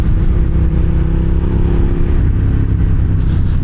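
Riding a 2006 Suzuki SV650S, the V-twin engine roars loud and steady up close, pitch shifting slightly as the throttle changes, mixed with wind noise and no voices.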